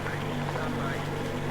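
A boat engine drones steadily in Metro Exodus, a loud, continuous low rumble with a dense hiss of wind and water, heard alone and close.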